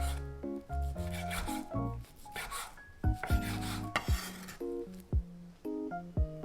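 A knife slicing green onion thinly on a cutting board, soft repeated rasping cuts in uneven bursts, close and quiet over faint background music.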